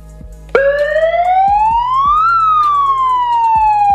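A loud blaring prank horn bursts in close, a siren-like wailing tone that rises steadily then slowly falls, while a low rhythmic thumping pulses underneath.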